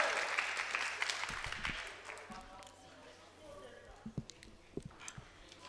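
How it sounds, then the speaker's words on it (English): Audience applause at a student union election hustings bursts out, then thins into scattered claps and fades within a couple of seconds, followed by people talking and a few light knocks. "Let's all give a round of applause"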